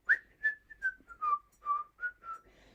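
A person whistles a simple, wavering tune outdoors, a series of about ten short melodic notes in a steady, relaxed rhythm, fairly clear and close with no talking.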